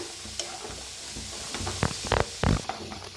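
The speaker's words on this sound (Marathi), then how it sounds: "आता मिक्स करून भाजून घ्यायचं।" Peas and eggplant are stirred and roasted in a pan. A soft steady sizzle runs underneath, broken by several louder scraping strokes toward the end.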